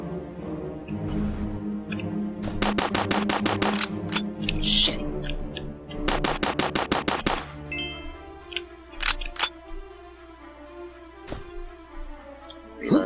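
Rapid bursts of video game gunfire, two quick rattling volleys of bullets with a few scattered single shots and clanks afterward, moderately loud over a quiet background.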